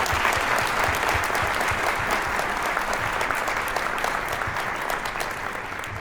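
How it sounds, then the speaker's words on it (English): Conference audience at a plenary session gives a final round of applause for the speakers, dense steady clapping from many hands filling the room throughout. "So let's give a final round of applause for our speakers"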